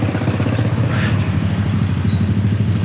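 A motorcycle on a street in a Uruguayan neighborhood gives a loud, close, rumbling engine drone with a rattly texture that holds steady for a few seconds, with no talking.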